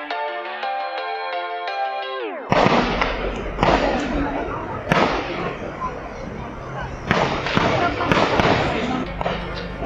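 Gunfire at a military training camp: a run of heavy, booming reports and thuds at irregular intervals, echoing in the distance, after a few seconds of music at the start.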